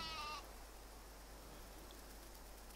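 A sheep bleats once in the video game Windborne, a short, faint call at the start over a steady hiss of rain or ambient noise.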